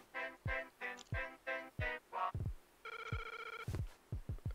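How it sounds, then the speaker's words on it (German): A telephone rings in Zelda: Link's Awakening, a rapid chiptune ring repeated in short bursts, then a sustained tone, with soft thumping game sounds between; no talking. "Ein Telefon."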